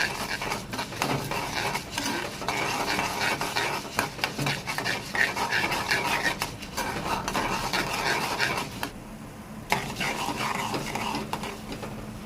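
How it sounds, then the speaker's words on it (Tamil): Masala for a Tamil mutton curry roasts on low heat, with continuous busy stirring, scraping and spoon clatter over a soft sizzle, fairly close and steady with a short dip near the end. "சிம்மில் வச்சு வறுத்துக்கோங்க, இல்லைன்னா கருகிடும்."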